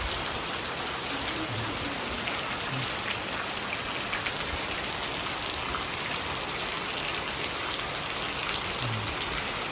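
Heavy rain driven by wind on a village at night makes a constant dense roar of downpour and drumming drops, loud and unbroken, with faint low gusts underneath.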